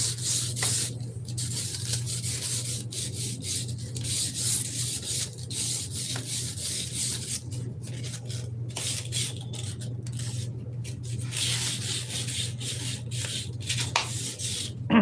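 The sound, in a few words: sandpaper (180 grit) scuffing a carbon rod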